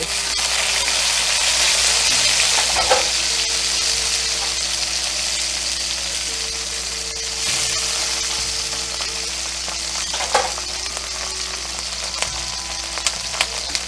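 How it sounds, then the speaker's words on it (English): Ginger and garlic sizzle in a couple of teaspoons of hot oil in a wok for a broccoli beef stir fry, a steady broad hiss running throughout with a few faint clinks, no talking. "Add our oil. Add a couple of teaspoons. I'm going to add our ginger. Well, the ginger and garlic combo."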